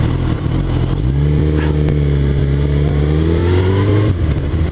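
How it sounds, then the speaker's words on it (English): A Volvo car drives past on a town road, its engine note rising and then holding a steady drone close by before it pulls away, loud and clear with no talk. "Oh, comes the Volvo."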